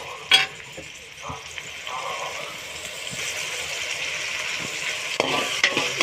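Pasta is stirred and fried in a pan with tomatoes, a gentle continuous sizzle under occasional scraping strokes, with a sharp clink near the start and a few more toward the end.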